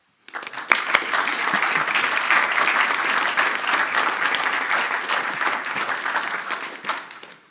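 Applause from the audience at a Troop 97 Eagle Scout Court of Honor, a steady, dense round of clapping that swells quickly, holds evenly for several seconds and tapers off at the end.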